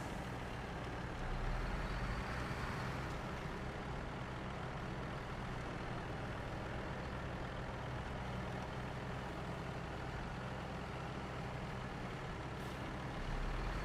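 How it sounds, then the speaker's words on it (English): A Paystar truck from the video game SnowRunner grinds through mud, its heavy diesel engine droning steadily and loudly with a dense low rumble that holds for the whole stretch, no voices over it. "And this truck pulls through."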